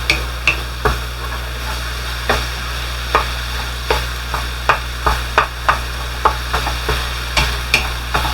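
Pork sausage cooks in a pan with a constant low sizzle and hum, punctuated by regular clacks and scrapes of a utensil stirring, steady and close with no talking.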